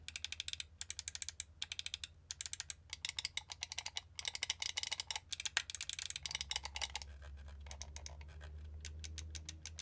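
Gaming mouse buttons on a Pulsar Xlite V3 with a closed shell click rapidly in close, crisp bursts, first in spaced pairs and then as a fast stream of clicks, with a low rumble of trucks outside underneath.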